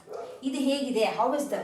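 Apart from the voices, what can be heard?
dog barking in the background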